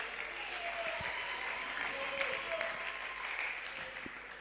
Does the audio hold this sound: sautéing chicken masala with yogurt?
no